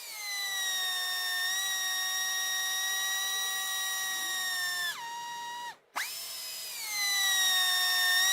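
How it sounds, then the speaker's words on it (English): Mars rover's robotic arm drilling into rock to collect a sample, heard as a steady whining tonal drone with harmonic layers that dips in pitch, cuts out briefly, then resumes and climbs again, loud and alone without talk. "here it goes, and begin the process of drilling in the rock"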